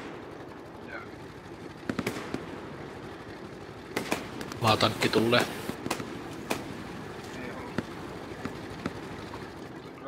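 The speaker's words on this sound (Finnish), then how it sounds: "Kyllä tästä kuuluu se ammuskelu, että jossain lähellä" Gunfire close by in the World War II shooter Hell Let Loose: scattered single cracks, then a dense burst of rapid automatic fire mid-way, followed by more isolated shots, with someone speaking briefly over it.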